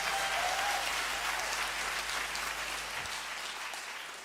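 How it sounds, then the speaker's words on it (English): Sustained applause from an audience for a university jazz ensemble at a cultural evening, broad and steady, gradually fading toward the end with no talking over it. "Let's give them a round of applause one more time."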